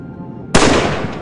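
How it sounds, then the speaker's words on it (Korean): A gunshot in the film Gravity, a single loud, sharp crack that bursts in abruptly after quiet and rings out with a short noisy tail. "총소리가 퍼진 하늘 위로 지나가는 라이언의 우주선."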